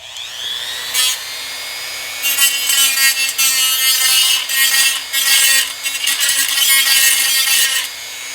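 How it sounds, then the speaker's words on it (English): A Dremel rotary tool runs at a steady high whine, grinding along the inside of a cut edge on a metal 1/650 scale model hull of the damaged U.S.S. Constellation. Rasping bursts come in and out over the hum, loud and close, with no talk. "then to clean it up, I'll just run the Dremel tool along the inside"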